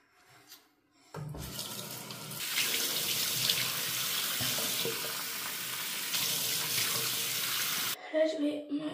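Tap water runs steadily into a bathroom sink during a face wash, a loud continuous splashing hiss that starts after a second and stops abruptly near the end, with faint rustling before and after.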